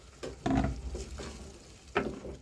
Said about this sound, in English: So you can see the way I'm mixing. Mix it very well.